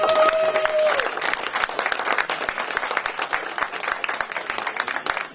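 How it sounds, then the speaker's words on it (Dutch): Audience applause at a book presentation, a dense, steady clapping from a room full of people that lasts the whole stretch, with a short tone near the start. "En misschien moeten jullie even voor hem klappen."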